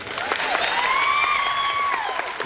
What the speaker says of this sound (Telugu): వినిపించండి మీ చప్పట్ల సందడి.